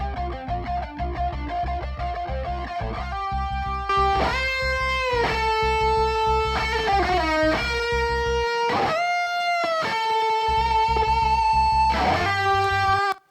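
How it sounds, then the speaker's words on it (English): Sustained synth-like chords drenched in a lush, shimmering Yamaha Symphonic effect from the SVX rack series, with gliding pitch bends and a wide, swirling tone. "It's a classic Yamaha effect from SVX series of rack effects"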